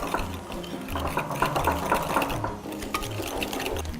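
Mixing a dairy-free custard filling with corn flour and cake flour, a steady close whirring churn with faint wet stirring texture throughout.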